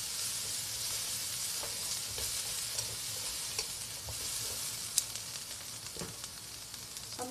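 Carrots for vegetarian japchae frying in a pan, a steady dense sizzle throughout with occasional spatula taps and scrapes as they are stirred, close and continuous.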